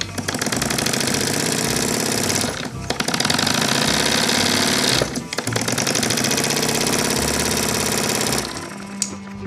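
A small model engine with a reversing gear runs steadily, a loud, fast, even mechanical clatter that briefly dips twice, alone without voices.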